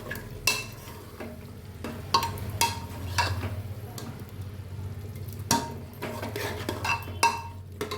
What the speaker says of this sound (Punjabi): ਹੁਣ ਆਪਾਂ ਇਸ ਵਿੱਚ ਐਡ ਕਰਾਂਗੇ ਬਰੀਕ ਕੱਟੇ ਹੋਏ ਆਲੂ ਤੇ ਇਸ ਨੂੰ ਵੀ ਆਪਾਂ ਚੰਗੀ ਤਰ੍ਹਾਂ ਮਿਕਸ ਕਰ ਦੇਵਾਂਗੇ